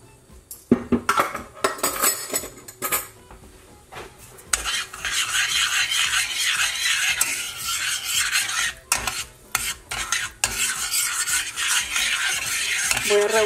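Sugar and about two tablespoons of honey are stirred in a pan for homemade caramel popcorn, with an utensil scraping and clinking against the metal in irregular strokes, then a steady close rasping stir over faint sizzling.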